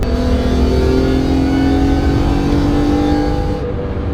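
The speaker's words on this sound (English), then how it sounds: "let you guys hear the diff whine" BMW E46 M3 CSL with a 4.10 differential, driven under steady load, giving a loud close engine drone with a sustained rising whine line running through it before easing off near the end.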